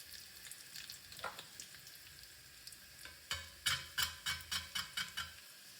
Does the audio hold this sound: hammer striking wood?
no